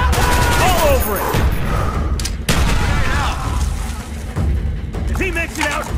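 Call of Duty Black Ops gameplay: a frag grenade blast rings out amid sustained rapid gunfire and booms, loud and continuous throughout, with shouted voices over the battle.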